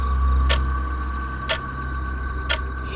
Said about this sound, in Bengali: অথচ একটা ঘড়ি টিকটিক করে বেজেই চলেছে